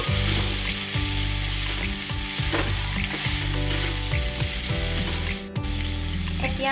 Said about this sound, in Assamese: এইখিনি আকৌ এবাৰ মই লৰাই দিছোঁ